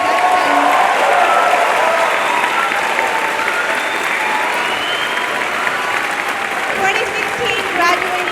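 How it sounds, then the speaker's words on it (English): Loud audience applause for a graduating high school class at a commencement ceremony, sustained clapping from a large crowd with a few cheers and voices mixed in. "a round of applause for the Texas Academy of International Express"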